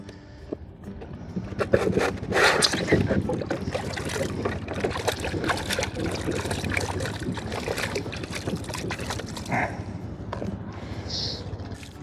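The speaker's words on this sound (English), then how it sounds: "And you can just rinse all that out real easily." Water splashes and trickles as removable boat floor mats are rinsed out, with continuous close spattering, scraping and dribbling throughout.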